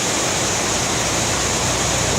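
Niagara Falls in Ontario roars as a dense, continuous wash of broadband rushing water, loud and unbroken for the whole short stretch, with no voices.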